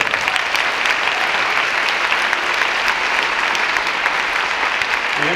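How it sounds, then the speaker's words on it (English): Steady, dense applause from an audience at a union support employee of the year awards event, sustained throughout without a break. "So give them a round of applause."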